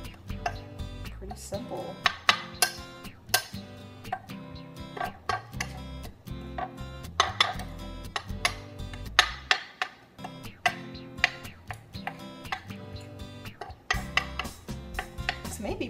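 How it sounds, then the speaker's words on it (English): A spoon scrapes and clinks around a bowl while mixing seasoned flour, giving a steady run of small taps and scrapes close to the microphone, with a brief spoken remark over it. "just take a spoon and I just mix it like that"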